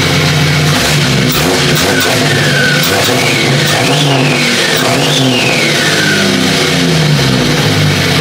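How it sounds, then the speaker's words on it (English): A newly built turbocharged Jeep Grand Cherokee engine, on its first start after a hot-side turbo setup, revs loudly and close up. Several rising and falling sweeps climb and fade over a continuous rough engine roar. "we'll see if it'll give a proper riff"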